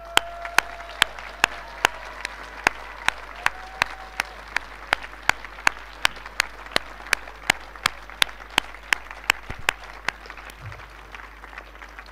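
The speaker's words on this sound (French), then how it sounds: "on va vous demander de tous les applaudir maintenant." Crowd at a political meeting of the NPA party's 2022 summer university clapping together in a steady rhythm, sharp evenly spaced claps ringing through the hall for about twelve seconds.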